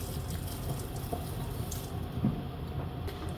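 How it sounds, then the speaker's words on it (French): Water pours from a tap into a pot of cooked carrots with pea protein and spices, a continuous soft splashing flow that stays fairly quiet and even throughout. "Et on va encore ajouter de l'eau."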